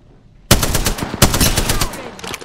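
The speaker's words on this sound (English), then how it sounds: "The enemies are shooting at me." Rapid automatic gunfire in a battle royale match's final circle, loud and close, with dense bursts of shots starting abruptly and a second volley partway through.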